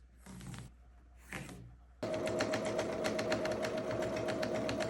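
A sewing machine stitches quilt lines into fabric for a quilt block sweatshirt: two short bursts of rapid stitching, a pause, then a louder continuous run of fast rhythmic needle clatter close by.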